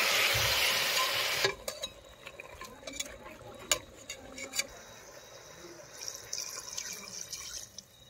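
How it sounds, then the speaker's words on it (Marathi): Village chicken is tossed into a pot of sizzling oil over a wood-fired stove and stirred, with loud frying at first, then scraping, knocking stir strokes and crackles close by. "तर त्यामध्ये चिकन टाकून घ्यायचं आहे."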